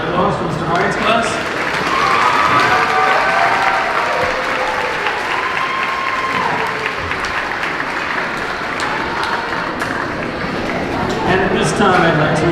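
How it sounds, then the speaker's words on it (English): Sustained applause from a large crowd at a fifth-grade moving-up ceremony, dense clapping that holds steady for several seconds with voices and cheers mixed in. "Let's have another round of applause for Mr. Hyatt's class."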